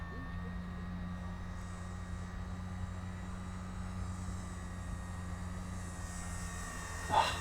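A Durafly Gloster Gladiator RC biplane flies in gusty wind, its steady electric motor drone holding at a constant, fairly distant level, with a brief louder bump near the end.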